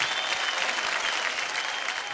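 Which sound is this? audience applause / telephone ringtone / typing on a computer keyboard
audience applause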